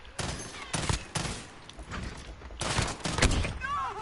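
Bursts of rapid automatic gunfire and shots in Call of Duty Modern Warfare on PS4, loud and repeated in several volleys with short gaps, with faint voices in the background.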